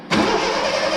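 A 1983 Ford Mustang GLX convertible engine, just freed from a stuck starter solenoid, catches abruptly and settles into a loud, steady running rumble close by, with no talking over it.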